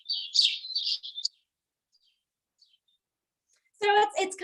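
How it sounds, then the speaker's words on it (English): A house sparrow calls in short bursts of bright chirps, a run of quick notes, then a pause and another burst of harsher, buzzier chips, close and clear against silence. "let's take a listen to what a house sparrow sounds like"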